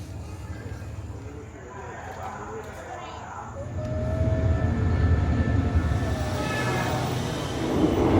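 Steady rumbling inside a moving train, with rattling and faint high squeals, the noise swelling slightly partway through.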